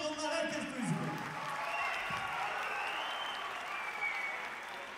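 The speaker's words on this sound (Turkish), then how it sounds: "Alkışlayın onlar herkes duysun." Audience applause in a hall, steady and moderately loud for the whole stretch, with a voice briefly audible over the clapping near the start.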